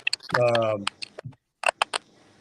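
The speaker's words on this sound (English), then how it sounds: "your typing is showing up in the audio" Quick bursts of clicky keyboard typing around a brief spoken phrase, a few keystrokes at a time with short pauses.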